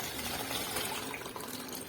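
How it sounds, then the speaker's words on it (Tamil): Tamarind water dissolved with tomato and coriander is poured into a pot of tomato rasam, giving a steady, close splashing gush of liquid that runs on without a break. "இப்போ வந்து அந்த புளி தண்ணி போட்டுக்கலாம்"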